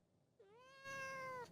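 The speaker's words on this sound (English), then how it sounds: "She never wants to meow into the microphone." A cat meows close into a microphone, one drawn-out, rising then steady meow, clear and alone against a quiet room.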